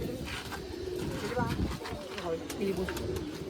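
Pigeons, including a pair of prized females, coo repeatedly from a rooftop loft in Amritsar's market area, their soft throaty calls layered under nearby murmuring voices and steady background bustle.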